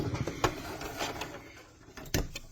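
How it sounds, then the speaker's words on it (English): Domestic sewing machine running a short reverse back-stitch over a boffer sword cover for LARP, a few quick bursts of whirring motor and needle clatter close up, with short pauses between them and no talking. "You're going to back stitch over your stitches. And then forward again just to lock it in."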